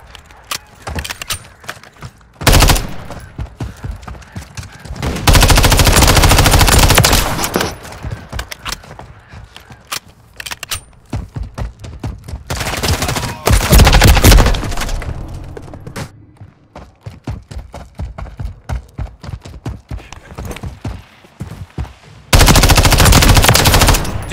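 Loud bursts of automatic gunfire in the Call of Duty video game, with long heavy volleys separated by scattered single shots and quieter stretches, up close and without talk.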